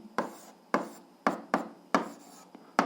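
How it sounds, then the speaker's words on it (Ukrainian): Someone writing an algebra answer by hand: a series of six scratchy pen or chalk strokes at a steady rhythm, each a short rasping burst with a quick attack, close and fairly quiet with no voice. "пишемо відповідь до другого завдання"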